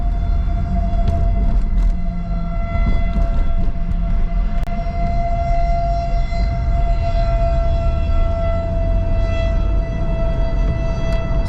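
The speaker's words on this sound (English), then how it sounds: "You guys can hear the tornado sirens here going off in the town of Prescott, Iowa." Tornado sirens in the town of Prescott, Iowa wail as one steady, sustained tone from a distance, heard over a low rumble of wind and a vehicle during a storm.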